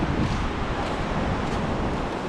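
Surf washes onto San Diego Beach in a dense, continuous roar of breaking waves, loud and close, with wind buffeting the microphone throughout.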